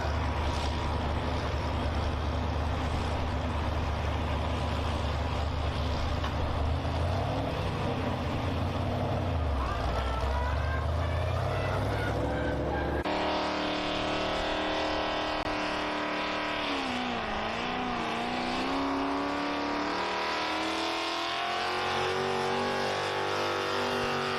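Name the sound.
pulling tractor engine roaring at county fair tractor pull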